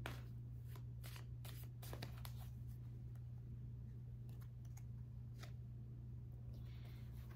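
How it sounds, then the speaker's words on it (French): Tarot cards are shuffled and drawn by hand. Quick bursts of crisp riffling and snapping cards come close and clear over a low steady hum, busiest in the first couple of seconds, then in scattered later flicks. "Je vais sortir 4 cartes."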